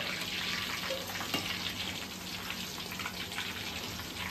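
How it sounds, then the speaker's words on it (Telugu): Black peppercorns crackling in hot frying oil: a quiet, steady sizzle scattered with small pops and crackles, heard alone without voices. "మిరియాలు ఉన్నాయి ఆ మిరియాలు పగులుతాయి ఒక్కోసారి"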